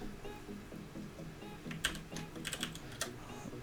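Quick bursts of typing on a computer keyboard, a cluster of crisp, close key clicks coming in uneven rhythm over a steady low background hum.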